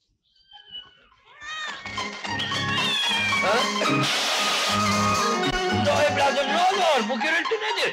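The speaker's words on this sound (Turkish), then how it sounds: "Gene Mahmur ablaya sataştı Deli Mürvet'in kedisi." A cat yowls and caterwauls in long, wavering cries over a rhythmic musical backing.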